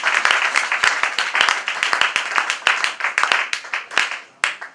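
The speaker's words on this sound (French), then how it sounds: "Est-ce qu'on peut applaudir bien pour les chefs?" A wedding crowd applauds the husbands with loud, fast clapping. Many hands beat densely at first, then the clapping thins toward scattered final claps.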